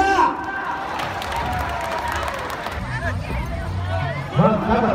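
An audience at a fan meeting in An Giang claps and cheers in a steady, sustained wash of applause, with crowd babble and a commentator talking over it.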